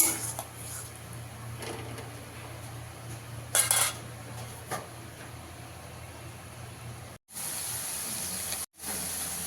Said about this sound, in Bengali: দইটা দিয়ে একটু ভালো করে কষিয়ে নেব।